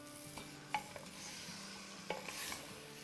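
Mutton and spices fry in a pot under stirring, a soft continuous sizzle with occasional scraping and a couple of sharp spoon-on-metal clinks, close and quiet with no talk.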